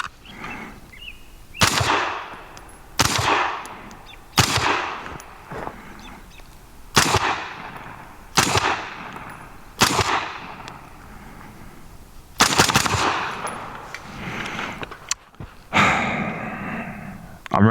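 A SOCOM 556 gas airsoft rifle fires about ten sharp single shots at irregular intervals, each a loud close crack with a brief gassy hiss and short decay.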